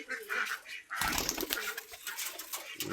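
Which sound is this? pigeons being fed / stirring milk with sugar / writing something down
pigeons being fed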